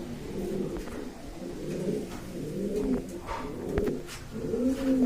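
Large pigeons from a breeding pair at a pigeon market coo steadily in low, rolling throaty phrases, several birds overlapping at close range with continuous soft murmuring.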